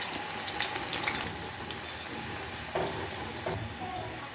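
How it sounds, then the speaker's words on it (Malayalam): Finely sliced onions fry for biryani in a soft, steady sizzle, quiet and even, with a few faint clinks and stirring sounds. "ഇനി നമുക്ക് നൈസായി മുറിച്ച വലിയ ഉള്ളി ഒന്ന് പൊരിച്ചെടുക്കാം"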